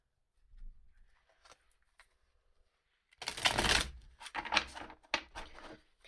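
A deck of tarot cards is shuffled nearby, with soft handling taps first and then a burst of riffling and several shorter shuffles, with no talk.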